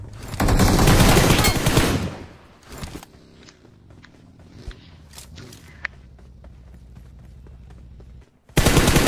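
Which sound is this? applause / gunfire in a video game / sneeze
gunfire in a video game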